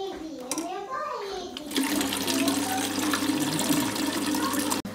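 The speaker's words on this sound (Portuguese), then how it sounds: "Vou encher minha garrafinha de água." Tap water running into a small water bottle at a kitchen sink, a steady bright rush that starts abruptly after a moment of someone talking, continuing loud and close before a sudden cutoff.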